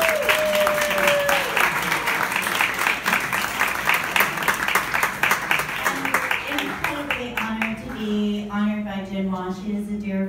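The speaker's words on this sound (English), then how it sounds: "A big applause for Holly." Audience applause at a fashion designers' awards showcase, honouring a leadership award for health and wellness; loud, dense clapping throughout, with background music or a sung tone entering and growing toward the end.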